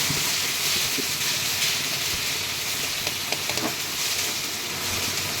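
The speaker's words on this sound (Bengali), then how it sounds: "তারপর টমেটো কুচি দিয়ে দিলাম" Chopped tomatoes frying in a pan of oil with bay leaf, sugar and onions, a steady broadband sizzle running throughout with a few faint clinks of stirring, no talk.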